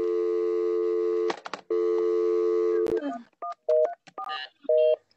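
Telephone call tones over a speakerphone: a long steady ringback tone twice, then a quick series of short DTMF keypad dialing beeps, loud and clear, with brief voices talking in between.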